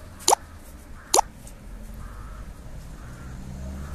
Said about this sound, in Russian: Вороны летают, каркают